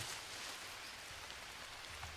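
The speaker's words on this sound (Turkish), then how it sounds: "Abi gene yağmur başladı." Soft, steady rain hissing quietly in the survival game Green Hell, a faint wash of falling drops with low rumbles beneath and no voices.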